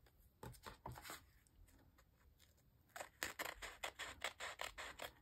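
Scissors snipping paper for layered junk journal tags, a quick run of crisp close-up cuts, then a pause and a faster rhythmic series of blade snips, fairly quiet with no talking.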